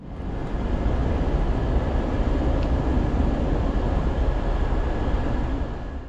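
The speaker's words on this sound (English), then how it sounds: "Our train arrives fresh from the depot around half an hour prior to departure." A CFR Class 41 electric locomotive brings a Romanian sleeper train in from the depot, a steady broad rumble of wheels and traction noise holding at constant loudness throughout, with a faint high whine above it.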